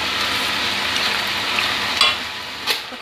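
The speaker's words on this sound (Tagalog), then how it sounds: "Kung naririnig niya yung parang tumitikit-katik, oil niya yan." Pork adobo with oyster sauce frying in its own rendered oil gives a steady loud sizzle, with a couple of sharper crackling pops near the end and no voices.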